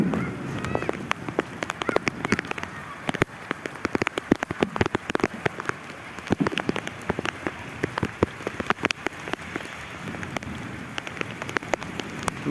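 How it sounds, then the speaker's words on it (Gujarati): Heavy rain pours steadily in a village during a storm, drumming hard on surfaces in a dense, continuous patter of close drops, with no talk. "જોઈ લો મિત્રો હજી પણ વરસાદ ભૂકા બોલાવે છે."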